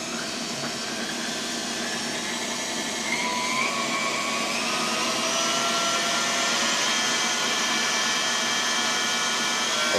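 An electric mixer whips chantilly cream with added icing sugar, producing a steady, loud motorized whine that rises slightly in pitch and intensity, heard close with no voices.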